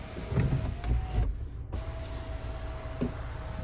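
A power sunroof shade in a 2022 Kia Sorento SX-Prestige 2.5T glides closed with a steady electric motor whine that runs nearly throughout, broken by one brief pause, against a low cabin rumble.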